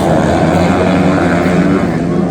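Flat track racing motorcycles roaring off the start together, a dense, loud, sustained engine drone that fills the whole moment without letup.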